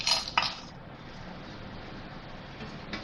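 Whole dry spices drop into a pan with two quick rattling clinks right at the start, followed by a quiet, low hiss.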